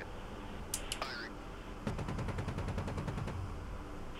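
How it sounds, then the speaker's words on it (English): Gun rounds fired from an Apache attack helicopter in the DCS flight simulator come as a fast, even burst of roughly a dozen sharp reports lasting about a second and a half, preceded by a few brief electronic tones. "I'm just firing off some rounds."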